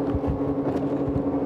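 Honda 4XC boat running flat out at sea at about 6,300 rpm, a loud, steady engine hum with water rush and a constant whine, close and continuous with no talking.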